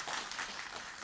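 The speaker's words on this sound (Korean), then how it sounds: "그런데 박수." A lecture audience at a talk in Gwanak, Seoul, gives a brief burst of applause, dense clapping for about a second that sounds moderately loud and fairly close, with no voices.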